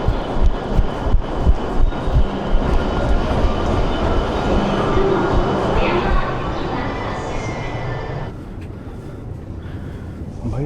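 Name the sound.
train passing at a station in Japan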